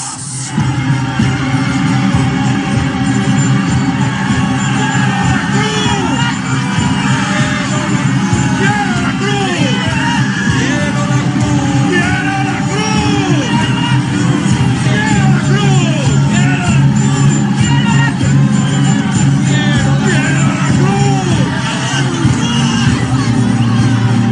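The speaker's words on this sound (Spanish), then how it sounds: "quiero que os levantéis, uno detrás de otro, y gritéis tan alto como podáis, ¡quiero la cruz!" Crowd of people shouting loudly in turn, yells and whoops rising from a dense, continuous hubbub of voices with scattered bangs throughout.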